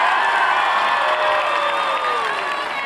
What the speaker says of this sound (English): How about one more round of applause for all the competing bands today?